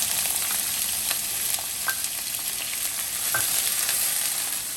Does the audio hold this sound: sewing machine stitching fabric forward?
no